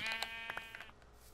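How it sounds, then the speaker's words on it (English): Sheep in a farm-building video game bleat in a quick run of wavering, nasal cries, close and clear with no talk over them. "Let's kill the sheep."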